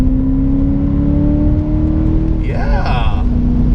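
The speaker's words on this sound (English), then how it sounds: "you hear straight pipe and you think it's going to be super loud" Straight-piped BMW E34 540i V8 exhaust holding a deep, throaty drone up close, then climbing in a quick rev near the end, loud and continuous with a voice speaking briefly.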